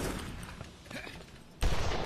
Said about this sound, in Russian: На, еще раз выстрелил.